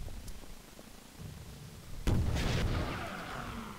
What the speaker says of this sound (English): I just blew up all those zombies